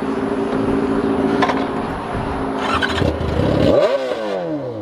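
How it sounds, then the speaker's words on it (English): A motorcycle engine runs roughly, then revs sharply near the end with a quick rising howl that falls back, loud and close, with no talking. "See if your bike will start."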